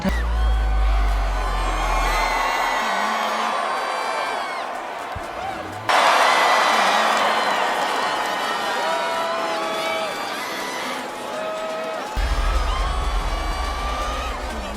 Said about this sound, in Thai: ฟังดีๆ ก็จะได้ยินเสียงแฟนคลับเนี่ย ตะโกนตลอดเวลา